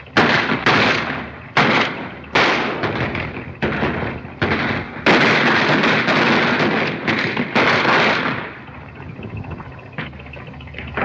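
Rapid bursts of gunfire in a 1935 Charlie Chan film shootout, loud repeated shots and volleys in irregular clusters, echoing densely before trailing off into quieter ambience.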